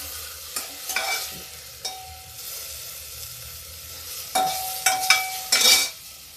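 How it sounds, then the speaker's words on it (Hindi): Onions frying over a high flame in a pan for tuvar dal tadka, with a steady close sizzle broken by several sharp bursts of stirring, heaviest near the end. "अब इसको हम थोड़ा गैस तेज करते हैं, इसको भूनते हैं।"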